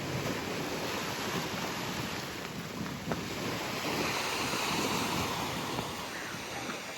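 Ocean waves wash steadily into a beach cove, a continuous broadband surf roar with wind buffeting the microphone, close and fairly loud with no talking.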